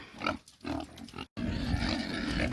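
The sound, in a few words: pigs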